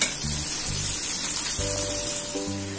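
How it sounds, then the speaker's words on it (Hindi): Thinly sliced onions frying toward light golden in a pan, a dense continuous hiss and crackle, close and steady, with a low background hum pulsing underneath and no talking. "प्याज मैंने एक मीडियम साइज का लिया है, इसे मैंने बारीक स्लाइस में काट लिया है और इन्हें मैं लाइट गोल्डन होने तक कुक कर लूंगी।"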